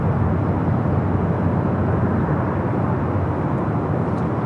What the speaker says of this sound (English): This flight heading to Raleigh, Durham is 737-800 in the Astrojet livery.